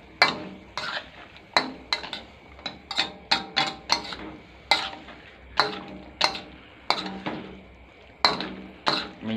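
Beef and vegetables being stir-fried in a pan, with a utensil scraping and knocking against the metal in sharp, irregular strokes over a faint sizzle, close and steady throughout.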